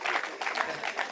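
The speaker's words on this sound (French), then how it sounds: "Est-ce qu'on peut applaudir?" Guests at a traditional Gabonese customary wedding break into applause, a brief burst of crowd clapping with voices mixed in.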